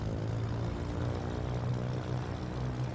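Steady propeller engine drone from a Cessna 310R twin taxiing in a flight simulator, a constant low hum with no talk over it.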